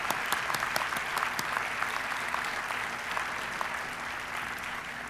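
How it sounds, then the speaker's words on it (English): A commencement crowd at a university doctoral ceremony applauds graduates as they stand, a steady wash of many hands clapping at even loudness for several seconds. "give them a big round of applause."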